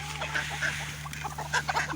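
Hens clucking near a coop while waiting to be fed, several short cackles and clucks scattered over a steady low hum, with louder bursts toward the end.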